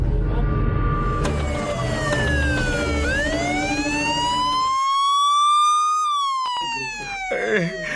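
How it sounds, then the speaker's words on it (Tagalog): An ambulance siren wails loud and near, sweeping up and down in pitch, then holds a rising tone before cutting off amid traffic noise, with no talk over it. "Gita na sa ambulansya si Daigit sa ospital."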